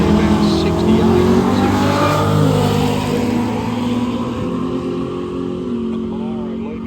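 A 1968 Holden Monaro and a Torana from the same era launch in a drag race, engines roaring loud and close at first, then fading steadily as the cars pull away, with an announcer talking over them.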